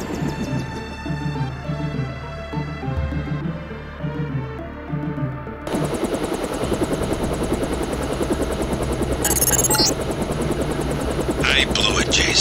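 Stealth helicopter in Deus Ex flying toward Hong Kong: a whirring rotor drone that swells louder about halfway through and then continues steadily, with brief bright bursts on top.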